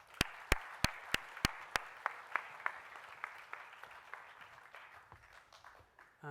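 Audience applause at a secondary school graduation ceremony, opening with six or so loud, evenly spaced sharp claps over a thinner patter of hands that slowly fades, with a brief rise of noise at the very end.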